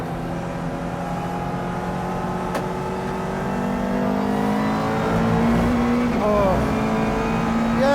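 A McLaren race car on slick tyres drives hard around a track, its engine note climbing steadily through the gears, loud and close, with a voice speaking over it.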